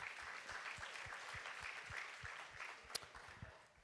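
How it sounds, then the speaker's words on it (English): Quiet, distant crowd applause at a Youth Day event, a soft continuous wash of clapping that tapers off toward the end. "Once again, give a round of applause for Mr. Michaels."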